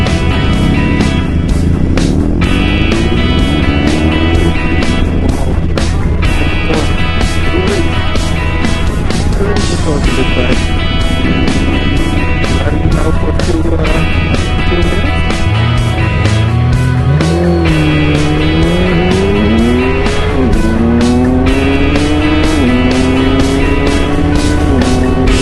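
Motorcycle riding over Belgian cobblestone roads with traction control on, a loud steady engine drone with rising and falling pitch as it revs and shifts, a continuous rough rumble throughout.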